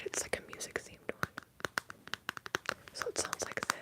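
Close, quiet handling of a hard plastic oracle card deck case, with rapid crisp taps, scratches and crinkly clicks in an irregular flurry, faint whispering underneath.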